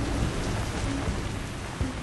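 Heavy rain pours steadily during Storm Petra, a dense broadband hiss of downpour with low thunder rumbling beneath it, constant and loud throughout with no voices.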